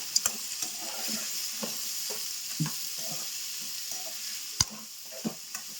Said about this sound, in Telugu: రొయ్యలు వేగినాయండి వంకాయలు వేసుకుందాం ఒకసారి కలుపుకున్నాము